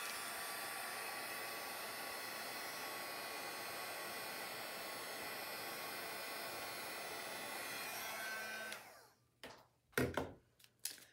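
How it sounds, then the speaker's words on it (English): A heat gun blows steadily on embossing powder, a loud constant whooshing hiss that cuts off abruptly near the end, followed by a few handling knocks. "let's hit it with the heat gun and see."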